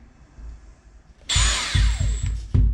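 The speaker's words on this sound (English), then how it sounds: "to drill into the drywall, I put it on reverse" A power drill set to reverse bores into drywall: a quiet start, then a sudden loud whirring spin with a few gritty surges, briefly stopping and restarting near the end.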